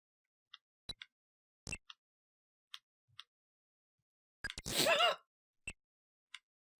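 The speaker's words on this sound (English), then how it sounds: "it's like I didn't want to open my mouth, but still had to, like, gasp" A short stifled gasp forced through a closed mouth, a breathy rush lasting about half a second, loud and close, set among faint scattered clicks and ticks from a Jetpac retro video game.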